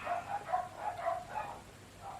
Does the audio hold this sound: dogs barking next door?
yes